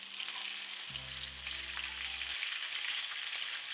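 Salmon pieces frying in hot vegetable oil in a non-stick pan, a steady crackling sizzle throughout with a low hum in the background, no talking.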